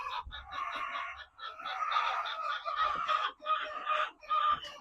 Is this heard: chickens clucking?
yes